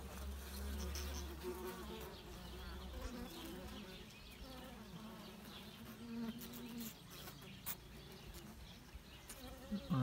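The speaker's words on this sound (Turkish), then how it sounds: "Sarıcalar da dolanıyor etrafta, kokuyu aldı hemen." Wasps drone and circle around an open beehive of local honeybees, a close, continuous insect buzzing that rises and falls as they fly past.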